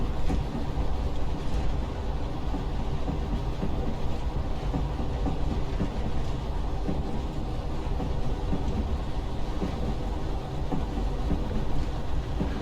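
A Class 156 diesel multiple unit runs between Norwich and Great Yarmouth in Train Simulator Classic, a continuous loud rumble of engine and wheels with faint rhythmic track clatter, no talk.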